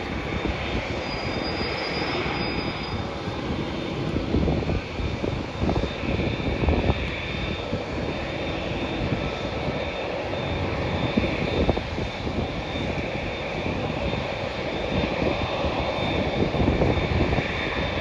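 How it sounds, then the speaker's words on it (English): A passenger jet arriving from Sydney lands at an airport, its engines producing a steady loud roar with broadband rumble and gusty texture throughout, no voices. "The flight from Sydney is just landing into the airport now."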